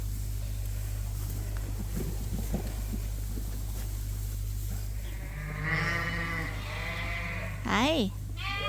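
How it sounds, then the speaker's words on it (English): Older Dorset lambs bleat in a barn during lambing season, several harmonic calls in the second half with a louder close bleat near the end, over a steady low hum and faint background talk. "on this side we have the older Dorset lambs"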